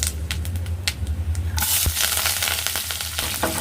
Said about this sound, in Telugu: అవి చిటపటానిన తర్వాత ఆనియన్, కరివేపాకు వేసేస్తాం.